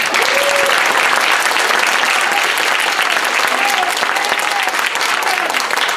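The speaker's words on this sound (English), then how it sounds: "let's give a big round of applause" Sustained audience applause at a Sunday Assembly gathering, steady and dense throughout with a few faint voices calling out over the clapping.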